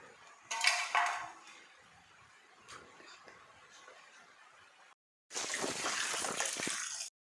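Cut pumpkin pieces are washed by hand in water, with a louder splashing burst at first, then quieter sloshing and clinks of a vessel, ending in a steady rush of running water.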